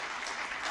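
Members applauding at a congressional hearing, a brief burst of dense clapping from a room of people, heard alone at moderate level.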